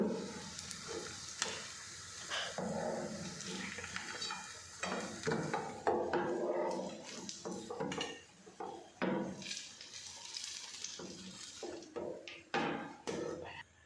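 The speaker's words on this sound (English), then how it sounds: "Banana fry is ready" Bananas fry in a pan with a soft, quiet sizzle, broken by frequent scraping and clinking of a utensil against the pan in irregular bursts, close by with no voices.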